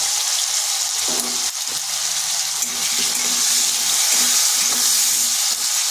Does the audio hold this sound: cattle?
no